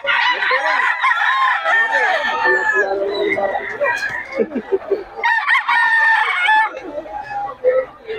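A bull stag gamecock crows repeatedly at a rooster market in Bocaue, loud and close, with long ragged calls, clucking between them and people talking in the background.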